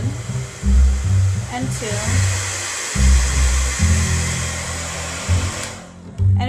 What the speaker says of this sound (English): The dryer includes 2 speed settings